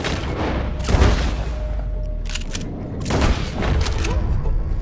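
Gunshots in Red Dead Redemption 2 ring out in two loud bursts, a sharp crack near the start and another volley about two seconds later, each trailing into a rumbling echo with no talk over them.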